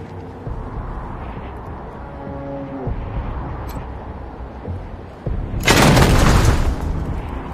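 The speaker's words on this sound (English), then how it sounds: "Shit! Incoming fire! Taking cover!" Gunfire in the Wasteland 3 video game sounds as a sudden loud, crackling burst lasting about a second near the end, following a stretch of quieter ambient game sounds and low thuds.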